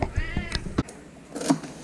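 A cat meows a few times close by, short rising calls with a brief pause between them, and a faint voice in the background.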